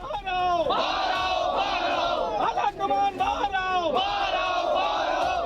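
A crowd of rebel party supporters holding placards protests against their own party and leaders, with loud, sustained shouting and chanting voices overlapping close by throughout.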